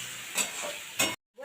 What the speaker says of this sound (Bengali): এরপর আমি মাংসটা দিয়ে দেব। ভালো করে কষিয়ে নিতে হবে, ভালো করে কষিয়ে নিচ্ছি।